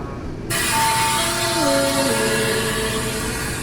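Special express train 31 departs Ratchaburi station in Thailand, a loud sustained rail rumble starting abruptly, with a horn-like tone that bends downward in pitch over a couple of seconds, then steady running noise continues.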